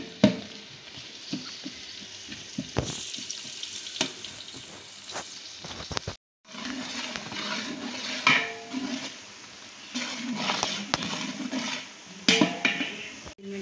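Finely chopped onions fry and are stirred in a pot until golden, with a continuous sizzle, intermittent scraping and clanking of the spoon against the metal, and a brief pause partway through.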